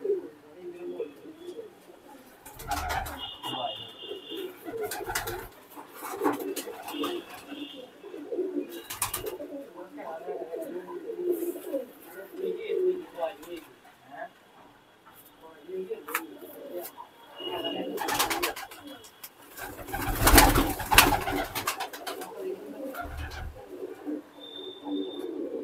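Pigeons coo softly and repeatedly amid a low murmur of background voices and occasional rustling and bumps.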